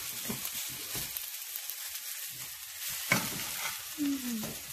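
Fried rice with shrimp stir-fried in a pan, with a faint sizzle under intermittent scraping and tossing strokes and clinks of utensils; no talking.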